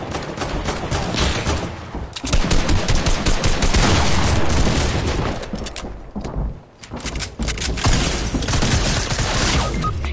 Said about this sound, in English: He shot me down.